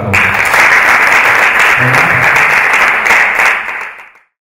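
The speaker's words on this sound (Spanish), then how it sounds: "Un fuerte aplauso para todos." Loud, dense applause from a cinema club audience at a screening session, steady and close for about four seconds before cutting off abruptly.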